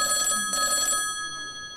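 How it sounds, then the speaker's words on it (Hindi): A telephone bell rings in two clear bursts with a short gap between, steady and fairly close, with no talking over it. "किसका फ़ोन है"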